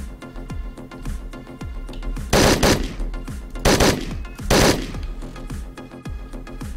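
Automatic gunfire from machine guns in the top-down shooter Hotline Miami 2, with rapid repeated shots and three loud sustained bursts standing out against a driving background beat, no talking.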